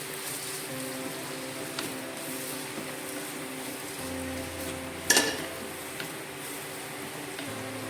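Ginger, garlic and green chili sautéing in a pan for egg butter masala produce a steady, close sizzle with a faint hum beneath it and one brief sharp clatter midway.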